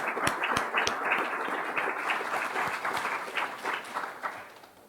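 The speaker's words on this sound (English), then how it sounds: "please have a rousing round of applause for them, without whom this cannot happen" Audience applause for an event team at a community gathering, steady dense clapping with sharp individual claps standing out, moderately loud and sustained across the whole stretch before trailing off slightly at the end.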